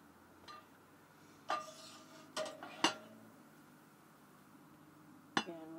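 A pot set on the stove while cooking in an RV at a campground gives a few separate metallic clanks and clinks, close and fairly quiet, spaced out over a few seconds.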